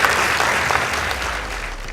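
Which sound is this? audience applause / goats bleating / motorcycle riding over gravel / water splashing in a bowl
audience applause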